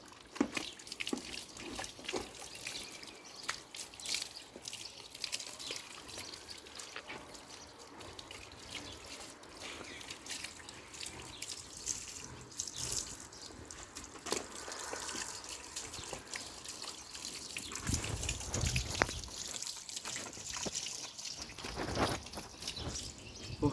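A golden retriever rinsed under running water during a home bath, with a steady close gush and splash that swells louder toward the end, no voices over it.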